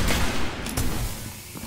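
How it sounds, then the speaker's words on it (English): Explosive bursts and gunfire from a grenade going off during a Destiny Crucible match, a dense, loud rumble with sharp cracks through the first second that fades into a lower roar. "That was a terrible grenade."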